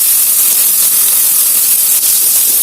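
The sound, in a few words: onions added to hot oil, sizzling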